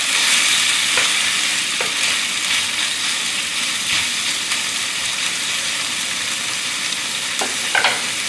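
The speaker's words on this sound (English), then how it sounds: "Stir fry here." Tofu and vegetables sizzle in a stir-fry pan over medium-high heat, a steady close hiss with a few soft clicks of stirring scattered throughout.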